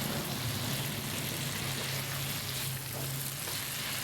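Squid adobo fries in hot oil with a steady, close sizzle and crackle that holds for the whole stretch, with no talking.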